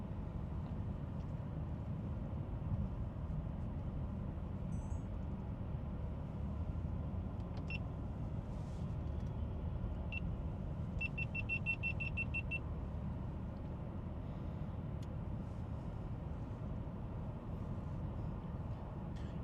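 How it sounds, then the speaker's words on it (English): Several cameras give a quick series of short electronic beeps inside a vehicle driving at night toward a storm shelf cloud, heard briefly over a constant low road rumble. "You guys just heard every single one of my cameras beep."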